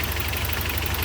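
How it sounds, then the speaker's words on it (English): Steady idle of a 1982 Toyota 4x4 pickup with a 22RE engine, a continuous low rumble with an even, unbroken level and no talk over it. "It's idling well, running well on the road."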